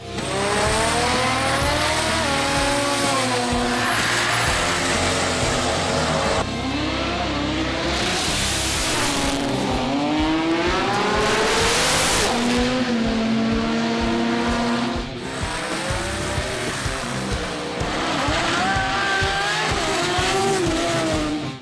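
Race and street cars at a drag racing event roar past, engines revving hard and screaming through gear changes, with tire squeal, a loud continuous wall of motor noise and no talking.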